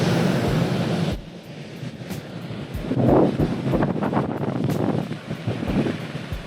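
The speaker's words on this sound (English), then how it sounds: "The waves are, they're pretty rough. They're crashing today." Rough ocean waves crash at Oceanside, California, near high tide; a steady rushing surf with wind buffeting the microphone, loud at first, then dipping before several surging swells rise again.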